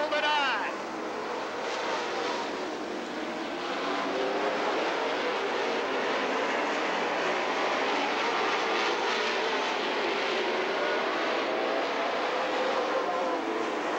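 Race cars roar around the track during a Mars Series dirt late model event, a steady dense engine drone holding throughout with an announcer's voice talking over it.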